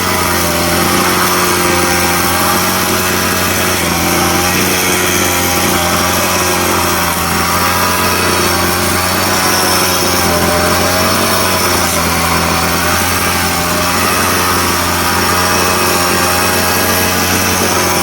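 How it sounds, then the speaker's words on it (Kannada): Grass-cutting machine running nonstop in a farm plantation, a loud, steady high-pitched engine whine with a constant drone and no break, voices absent. "ಇದು ಯಾವಾಗಿಂದ ಸ್ಟಾರ್ಟ್ ಮಾಡಿದ್ರಿ ಹುಲ್ ಕೊಯ್ಯಕ್ಕೆ ಇದೇ ಮಿಷನ್ ಇಂದ?"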